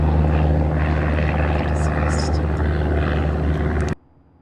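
Light aircraft engine at full power during the takeoff climb on a first solo flight, a loud steady propeller drone with a constant low hum for about four seconds before cutting off abruptly.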